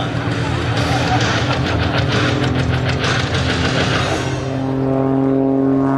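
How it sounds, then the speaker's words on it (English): An aerobatic propeller airplane rolls along the show line at the Abbotsford Airshow 2010, its engine droning steadily and then rising into a higher, smoother tone, heard from a distance under a loud commentator's voice. "Dave Mathieson rolling the airplane along the show line"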